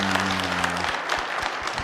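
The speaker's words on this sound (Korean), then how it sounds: "하나님께 영광의 박수 올리겠습니다." A church congregation at a dawn service claps after a youth praise song, a brief steady burst of applause that begins as the last sustained musical notes fade out.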